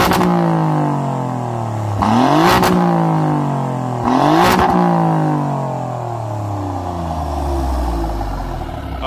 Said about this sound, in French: Ah là le bruit c'est pas du tout le même. On ressent le moteur Ferrari.